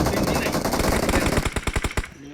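Rapid automatic gunfire from a team deathmatch video game, dense and continuous at first, then breaking into a fast run of distinct sharp shots near the end, loud and close.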